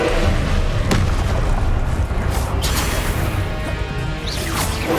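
Spell blasts in Hogwarts Legacy crash and boom in dense, loud succession, with sharp impacts and whooshes layered over a constant rumbling game mix.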